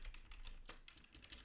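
Quick, irregular keystrokes on a computer keyboard while someone codes a Python Tkinter GUI, a light close clatter of individual taps heard alone at low volume.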